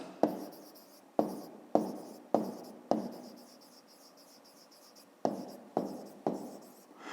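A pen writing out a fifth-grade math exercise on paper, a series of about nine distinct strokes in uneven bursts, each starting with a sharp scratch and fading, with no talk.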